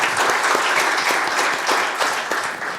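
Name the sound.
applause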